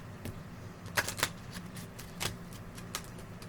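Tarot cards shuffled by hand, giving a few quiet riffling bursts and soft slaps at irregular intervals with low background hiss between them. No speech.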